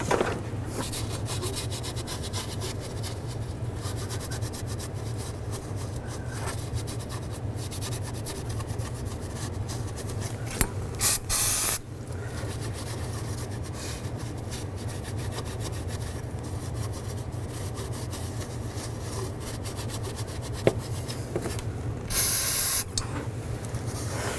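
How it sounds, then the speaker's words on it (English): Brake parts cleaner and a rag clean the valve cover gasket surface on a 2005–2015 Nissan Xterra. Close, continuous rubbing and scrubbing is broken by two short aerosol spray bursts, with no talking. "take some brake parts cleaner and a rag and just wipe this down"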